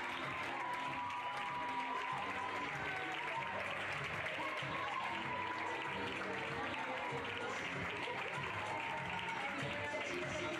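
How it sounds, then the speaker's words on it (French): Sustained applause from an audience at a French national championship dressage award ceremony, steady dense clapping lasting throughout, honoring the riders' coaches, with faint voices mixed in. "Mesdames et messieurs, vous pouvez les applaudir."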